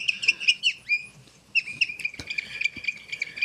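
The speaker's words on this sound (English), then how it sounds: "twirl it in the air, and then you get a lovely, quite chaotic bird sound" A toy whistle whirled through the air gives rapid, warbling bird-like chirps and trills, bright and chaotic, with a short pause before a second burst.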